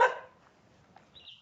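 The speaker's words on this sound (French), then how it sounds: "Ils sont seulement du genre à aboyer." A single short dog bark opens the moment at Le Morne in Mauritius, followed by faint rustling and a brief high whine, the rest nearly quiet.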